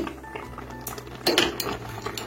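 A milk cake mixture of grainy curdled milk with sugar and ghee is stirred in a pan over medium heat, giving soft scraping and clinking of a spoon against metal, with one louder scrape partway through, close up and with no talk.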